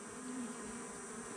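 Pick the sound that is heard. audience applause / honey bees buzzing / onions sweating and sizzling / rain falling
honey bees buzzing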